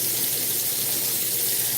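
Steady shower water runs in a bathroom, a constant broad hiss of spray falling without pause, close and fairly loud, with no voices over it.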